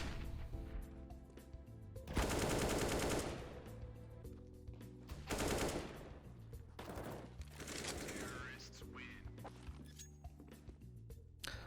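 Counter-Strike gunfire on Dust2, AK-47 and scout sniper rifle, sounding as rapid loud bursts of rifle shots in several clusters, with footsteps and game effects between them.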